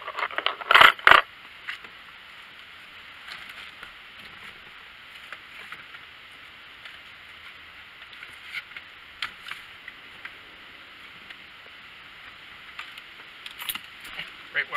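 A set of keys jangles in a vehicle during a CB radio install, with a loud metallic clink early on and lighter scattered rattles and taps following at close range.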